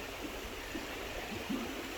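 Crooked Creek in the Ouachita National Forest flows past a deep pool, a steady close rush of water with faint gurgles rising now and then.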